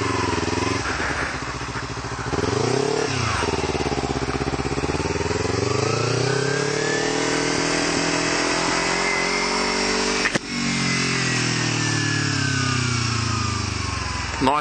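A Kawasaki Ninja 300 with a Screaming Demon slip-on exhaust is ridden hard, its high engine note rising and falling through several gear changes near redline, loud and steady with a brief dip midway.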